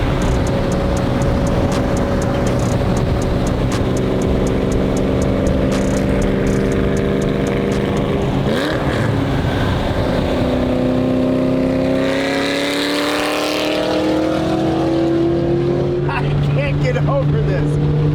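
A Ford GT fitted with nitrous oxide revs loudly and steadily, its engine note holding and rising in pitch, with a brief surge partway through and a fresh climb near the end.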